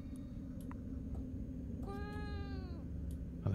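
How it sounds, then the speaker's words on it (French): A cat meows inside the horror game Fears to Fathom: Woodbury Getaway, one drawn-out, falling meow at mid distance over a steady low background hum, with no voices. "Ah bah c'est le chat qui faisait du bruit,"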